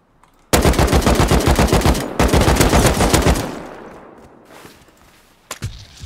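Automated turrets in the survival game Rust fire rapid bursts of gunfire, two long loud volleys followed by a fading tail and a few more shots at the end.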